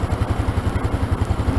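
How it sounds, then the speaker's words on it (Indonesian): Yamaha Mio Soul scooter with a modified 135 cc engine warming up at idle, a close, fast, even putter with a light mechanical clatter and no voices. "Nyalakan dulu. Panaskan dulu mesinnya."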